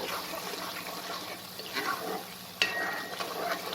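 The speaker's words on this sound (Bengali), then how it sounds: "মশলাটাকে খুব ভালো করে আমি কষিয়ে নেব।" Spice paste of coriander powder, salt and a little sugar fried and stirred in a pan, a low continuous sizzle with soft scraping strokes and one brief metallic clink, quiet and close.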